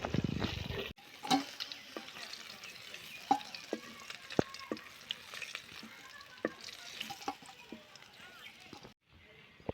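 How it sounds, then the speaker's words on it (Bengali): Cauliflower and potato fry together in a pan with a quiet, constant sizzle, punctuated by repeated sharp clicks and scrapes of stirring that fall at an irregular pace. "ফুলকপি দিয়ে আর আলু দিয়ে একসাথ করে বাজিয়ে নেব"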